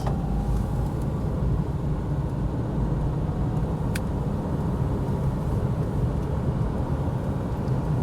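A 1972 Mercedes 350 SLC cruises at 80 km/h around 2400 rpm, giving a steady, smooth interior drone of engine and road rumble with no voices.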